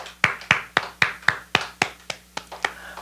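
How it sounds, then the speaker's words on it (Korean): Church congregation at a Wednesday service giving a round of clapping, about a dozen sharp, evenly spaced hand claps, fairly close and clear, with no talk over them. "우리 하나님께 영광의 박수 올리겠습니다"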